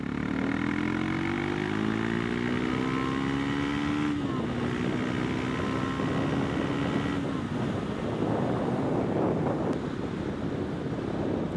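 A Triumph Scrambler 400X rides along in third gear, its engine note droning steadily and shifting slightly in pitch under heavy rushing wind noise, continuous and moderately loud.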